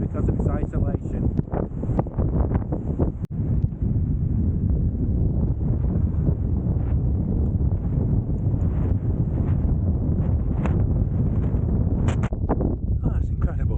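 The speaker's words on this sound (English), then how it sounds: "I've never experienced wind like that." Strong wind roars and buffets the microphone on a Lake District mountain summit ridge near Carl Side, a loud continuous rumble with gusting surges, while someone speaks over it.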